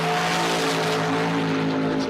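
Drag racing engines at Empire Dragway roar loud and close as cars launch, including an orange dragster, a dense sustained howl with strong harmonic tones across the whole short burst.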